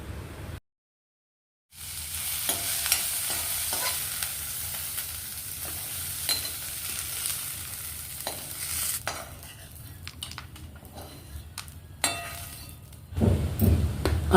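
Ingredients sautéing in a pan, with coriander leaves added at the end; a loud, even sizzle runs after a brief silent gap, then gives way to quieter scattered clinks and stirring taps.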